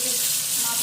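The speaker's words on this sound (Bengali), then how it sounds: "মাছ ভাজা চলছে" Fish frying in a pan in a home kitchen, a steady close hiss and sizzle of hot oil running unbroken with no voices.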